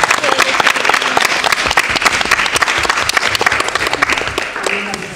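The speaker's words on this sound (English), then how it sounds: "So, round of applause." Sustained applause from the audience at a school committee meeting: dense, even clapping throughout, with a few voices mixed in.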